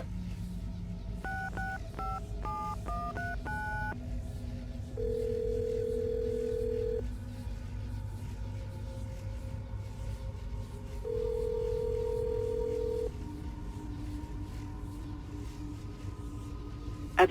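In Assassin's Creed Brotherhood, a telephone keypad beeps through a quick string of dialing tones, then a steady dial tone hums in two long stretches over a low, constant background rumble.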